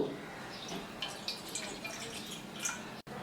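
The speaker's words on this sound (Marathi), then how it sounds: "ह्या भांड्यात ही वाटीभर पाणी घालू" Water splashes and trickles into a bowl, a soft steady wash of liquid with a few drippy accents, fairly quiet and close.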